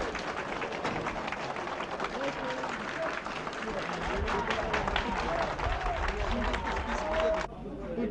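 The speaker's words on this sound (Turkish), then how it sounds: "Siz de alkışlayın ya." A crowd claps at a gathering, with dense applause mixed with murmured chatter and voices throughout; the clapping swells slightly midway before cutting off abruptly near the end.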